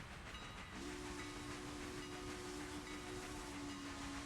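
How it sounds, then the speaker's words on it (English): A video game train horn sounds a long, steady tone over a constant hiss of rumbling rail noise, moderately distant. "I hear an approaching train."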